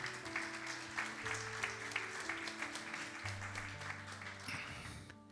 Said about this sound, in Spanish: Vamos a ver un fuerte aplauso.